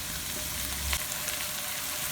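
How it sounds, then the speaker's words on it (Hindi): White cumin seeds sizzle in hot oil in a kadhai, a dense, even hiss of frying held steady throughout at moderate level, with one soft knock partway through and no speech. "कढ़ाई में ऑयल डाल के इसको गर्म कर लेते हैं। सफ़ेद ज़ीरा डाल देते हैं।"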